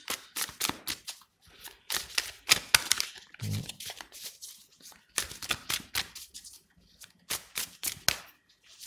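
Oracle cards are shuffled and drawn, giving bursts of rapid crisp riffling and flicking in close irregular clusters, separated by short quiet gaps.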